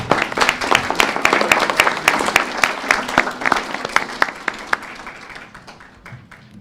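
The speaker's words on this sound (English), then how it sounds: "Let's give David a round of applause." Audience at a Pulaski County fiscal court meeting giving an honoree a round of applause, dense hand clapping that holds steady for several seconds and then thins out toward the end.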